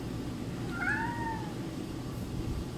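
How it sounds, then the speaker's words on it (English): A single soft cat meow, faint and mid-distance, over steady background hiss. "Yes, my cat,"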